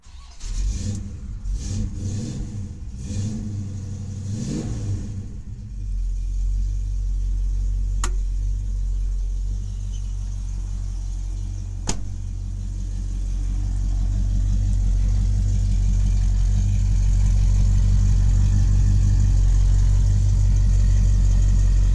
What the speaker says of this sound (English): I'll let you listen to this car here.